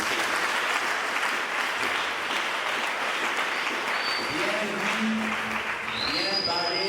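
An audience applauds after a speech, with dense sustained clapping from a crowd at steady loudness and a few voices cutting through toward the end.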